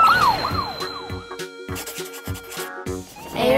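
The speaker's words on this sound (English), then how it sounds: "Police car." A police car siren wails in quick repeated up-and-down swoops, set against a bouncy rhythmic musical backing with regular percussive hits. The siren returns briefly at the end.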